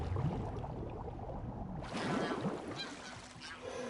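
Ducks honk and quack in a run of nasal calls in The Last of Us remake video game, rising over a steady ambient bed, with a louder burst of calls midway.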